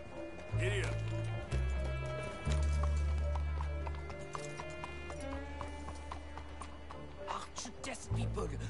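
Horse galloping in the video game Red Dead Redemption 2, rapid rhythmic hoofbeats clip-clopping steadily and close, over a low droning rumble with a brief whinny-like sound, and a voice speaking briefly at times.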